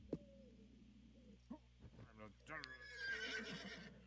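Horse neighing and whinnying in a video game trailer with clip-clop hooves, plus grunts and other game sounds, the whinny rising loud near the end over a low background hum.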